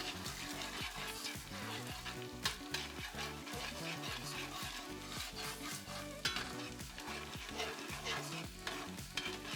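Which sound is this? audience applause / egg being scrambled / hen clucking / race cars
egg being scrambled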